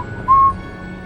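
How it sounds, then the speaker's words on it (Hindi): A single short whistled note sounds inside a room, a clear steady tone lasting about a quarter second over a faint background hush, used as an eerie horror-story effect. "अचानक कमरे में किसी के सीटी की आवाज आई।"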